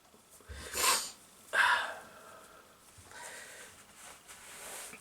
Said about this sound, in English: I need to like blow my nose